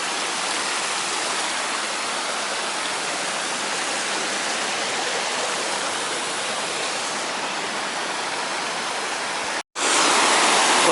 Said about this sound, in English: Always like the sound of tumbling streams.